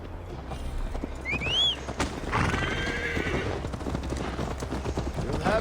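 A horse in Assassin's Creed Valhalla gives a loud rising whinny over steady clip-clopping hooves, followed by a second neigh and continuing hoofbeats against a low rumbling background.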